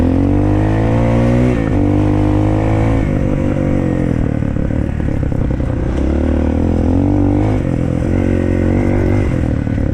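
A Shineray VXR 300 motorcycle out on a test ride, its engine droning loudly and close the whole time, pitch climbing and dropping as the rider works through the throttle and gears, with no voices.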